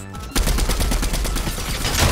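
A rapid-fire gun in Fortnite Chapter 3 shreds in a fast, loud, continuous burst of shots, close and dense after a brief quieter lead-in.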